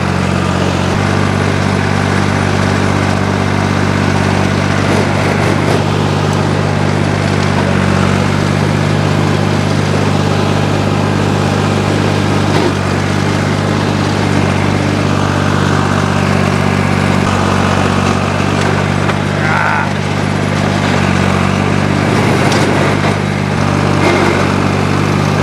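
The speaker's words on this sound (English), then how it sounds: "I think the amount of vegetation out here is pushing this mower back too far" A hay mower works through thick vegetation, its engine droning steadily and loud for the whole stretch with a constant low hum and little variation.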